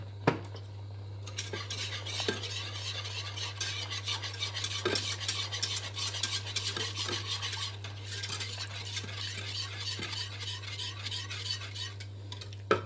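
A spoon stirs béchamel sauce in a pot, scraping and clinking rhythmically against the metal with a soft sizzle beneath, close and continuous over a steady low hum, with no talking.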